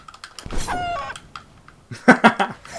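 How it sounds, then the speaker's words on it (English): A chicken in Fortnite Creative clucking in short bursts, with a few quick clicks scattered around the bird calls, no voices. "Stupid chicken."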